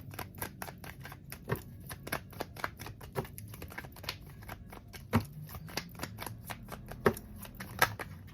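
Tarot cards being shuffled and drawn, a fast series of soft, sharp flicks and snaps in irregular rhythm, close and fairly quiet, with occasional louder card slaps.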